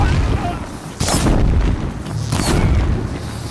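Gunfire rattles through a Horizon Zero Dawn battle, loud sustained booming blasts and cracking shots layered over heavy low rumble, with sharp bursts standing out near the one- and two-and-a-half-second marks.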